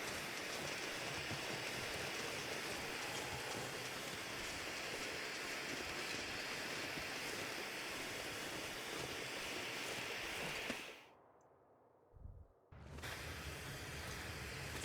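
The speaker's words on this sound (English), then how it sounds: "Flares are so loud." A flare burns in The Long Dark video game with a loud, steady rushing hiss that fills the scene for about eleven seconds, then cuts off abruptly into near silence before a softer ambient hiss returns.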